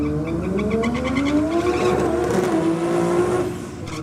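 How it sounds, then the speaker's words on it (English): Race car doing a burnout, tyres spinning and squealing with a rising, wavering engine whine at close range, then easing off toward the end. "Just torching the tyres."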